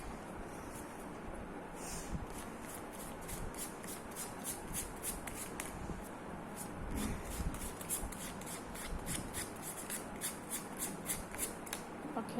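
Tarot-style playing cards are shuffled and drawn for a love reading, a soft continuous rubbing and riffling with repeated light flicks and taps close by, quiet throughout with faint breathy background noise.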